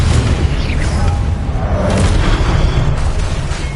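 A Confringo blasting curse goes off in a Harry Potter video game as a loud, continuous booming explosion with a deep rumble and a whooshing burst, close and dominant throughout, with no talking.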